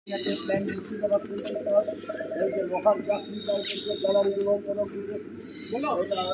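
Parrots, cockatiels and emus are kept in an aviary at a historic Murshidabad palace, and dense, continuous chirping and cooing sounds close by.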